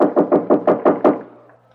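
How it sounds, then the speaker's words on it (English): A man banging on an apartment door in a radio drama, six loud, heavy, evenly spaced knocks close up, fading out at the end. "this guy is on the balcony in front of 2A, banging on the door"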